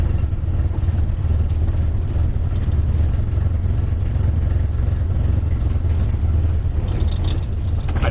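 A Datsun 510 engine runs on its first drive after a transmission rebuild, a steady low mid-pitched drone heard from inside the car, holding even throughout with slight revving variation near the end.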